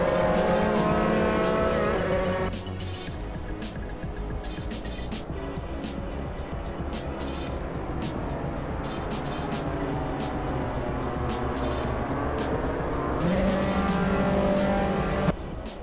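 Formula-style race cars lapping Donington Park in Assetto Corsa, engines droning and revving continuously with shifting pitch as several cars run close together, a steady loud mechanical roar throughout.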